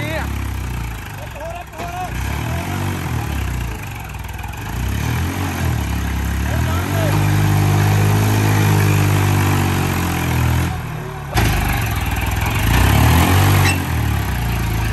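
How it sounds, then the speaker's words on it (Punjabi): A tractor engine labours hard under load, trying to pull something out, its low rumble rising and holding loud through the middle, with people talking over it. "ਕੱਢ ਕੇ ਹੀ ਹਟਣਾ ਗਾ ਟਰੈਕਟਰ ਤਾਂ ਜਿੰਨਾ ਜ਼ੋਰ ਮਰਜ਼ੀ ਲਾਈ ਦੇ"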